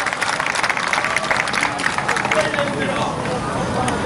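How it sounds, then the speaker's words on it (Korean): A large crowd at an outdoor memorial rally for ferry disaster victims applauds the next speaker, dense clapping mixed with crowd noise and chatter, steady and loud before easing slightly. "큰 박수 부탁드립니다."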